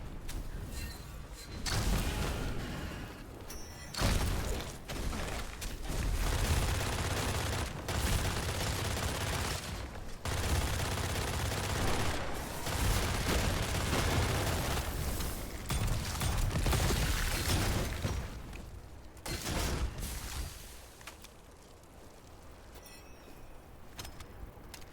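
Grenade launcher called the Grenader firing in a video game, with a dense run of loud, overlapping blasts and mechanical clatter that continues almost without pause and fills the whole stretch.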